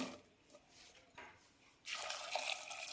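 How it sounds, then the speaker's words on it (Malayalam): A cup of water is poured into a pot holding washed dal and cucumber pieces. After a quiet start, a loud, steady splashing pour fills the last second or so. "ഒരു കപ്പ് വെള്ളം ഒഴിച്ചിട്ടുണ്ട്"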